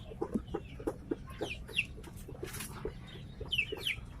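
Several chickens cluck and chatter nearby in quick, irregular bursts, with a few higher squawks, fairly quiet overall.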